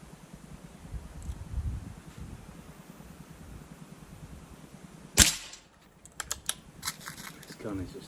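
An airgun fires once and the pellet strikes a paper target: a crisp, close snap midway through a quiet outdoor background, followed by several lighter clicks and rustles.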